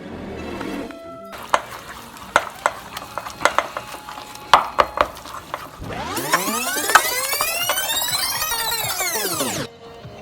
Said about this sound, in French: On continue à tourner assez vivement, toujours à la spatule en bois.